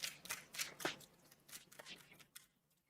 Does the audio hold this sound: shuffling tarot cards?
yes